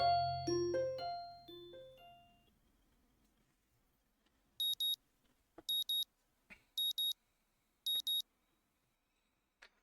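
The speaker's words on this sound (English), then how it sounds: "The sound of my alarm brings me out of my dream" In the visual novel Katawa Shoujo, a chiming melody fades out, then an electronic alarm clock beeps in four short, evenly spaced bursts, with a few soft clicks in between.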